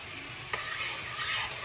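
A honey and ginger sauce simmers in a pan, a soft continuous sizzle with a single sharp utensil clink early on, faint and close with no voices.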